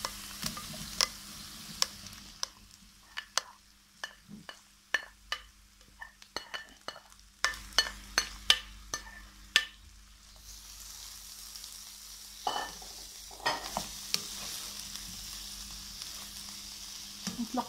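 Vegetables fry in a pan with vinegar added, with a soft steady sizzle under repeated sharp clicks and scrapes as the pan is stirred, close and fairly loud.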